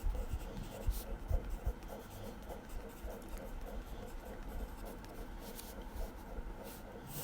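Pencil scratching across paper in a steady, repetitive rhythm of short strokes, close and fairly quiet, with a few soft bumps; no talking.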